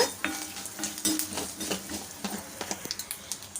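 Chana dal and curry leaves fry in hot oil in a pan while a spoon stirs and scrapes, a steady sizzle under irregular metallic clinks and taps, close and alone.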